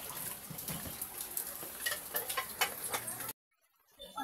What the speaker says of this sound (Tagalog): Isang maulan na naman po mga nanay na umaga